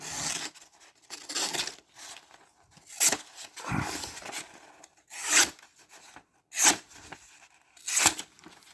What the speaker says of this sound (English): I'd like to sharpen that a lot more. Get it on the right angle.